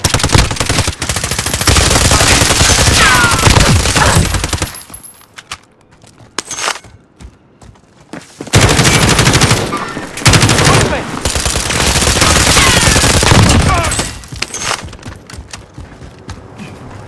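Dense bursts of automatic gunfire and single shots in the video game Call of Duty: Warzone, loud and nearly continuous with a few brief quieter lulls.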